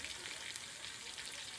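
Dominican-style meatballs browning in a slightly sticky frying pan, a steady soft sizzle of frying oil, continuous and fairly quiet with no talking.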